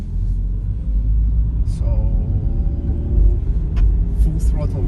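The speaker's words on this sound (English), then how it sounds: "So now we'll accelerate with full throttle." A 2022 Lada Largus engine rumbles low and steady inside the cabin as the car accelerates at full throttle, while someone talks over the droning motor.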